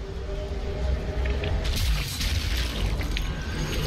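Stick grenades shot out of the air in Sniper Elite Nazi Zombie Army, a muffled boom and rumbling blast swelling midway over constant low game ambience.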